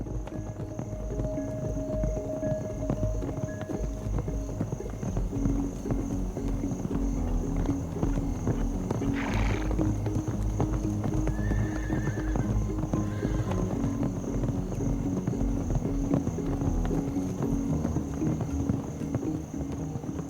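Horses in an open mountain pasture in Romania's Rodna Mountains, steady hoof clip-clop under continuous outdoor ambience with a couple of whinnies around the middle, fairly close and moderately loud.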